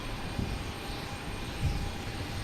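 A JetBlue Airbus A220 jet arrives at Boston Logan Airport, heard as a continuous broadband engine roar at moderate distance, steady throughout with no voices.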